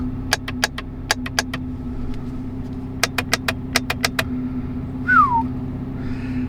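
Sharp, crisp clicks of C8 Corvette magnetic paddle shifters in two quick bursts of several, ringing out over a steady low engine hum inside the closed car, followed by a brief chirp.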